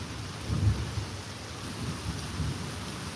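Thunderstorm with steady rain hissing on surfaces and low thunder rolling in soft swells, moderately loud and constant, with no voices.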